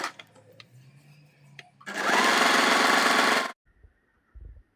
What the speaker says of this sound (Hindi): अब इस डिज़ाइन की दूसरी साइड में भी सिलाई लगा लेंगे